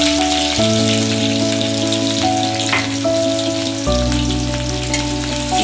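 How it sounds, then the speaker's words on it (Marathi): Green chillies and finely chopped garlic sizzling in hot oil, a loud, continuous crackling hiss close by, joined by steady low tonal hum from the stove or background, with no one talking. "आता ह्याच्यामध्ये मी हा बारीक केलेला लसूण घालून देतो"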